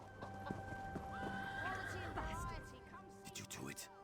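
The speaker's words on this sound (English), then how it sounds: "no, that's just a random horse just standing there." A horse in the video game The Elder Scrolls Online snorts and whinnies close by while hooves clip-clop, set against game music, with a voice talking over part of it.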